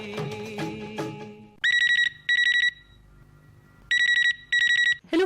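A telephone rings on an Akashvani Chhattisgarh radio phone-in film-song request show, sounding two loud double-ring bursts in a row after the music fades, then another pair following a short quiet gap.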